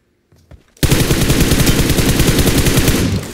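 A few faint shots are followed by a loud, sustained burst of rapid automatic gunfire from a video game, fired close and continuing for several seconds.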